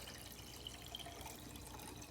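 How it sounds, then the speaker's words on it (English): Water poured into a vase for a holiday table setting, a steady soft stream of liquid filling the glass, faint and continuous without talk. "I'm going to begin pouring water"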